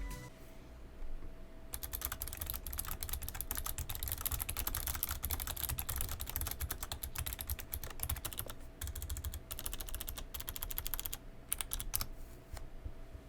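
Steady, fairly rapid typing on a Razer Ornata mechanical-feeling membrane keyboard, soft, slightly clicky keystrokes, close up, running continuously with a few brief pauses near the end.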